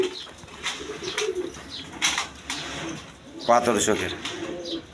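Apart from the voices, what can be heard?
big lively pigeon cooing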